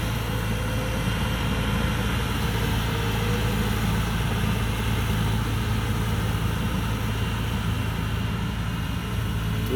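A 260-horsepower combine harvester runs with a loud, steady, unbroken engine drone that stays at the same level throughout, with no talking.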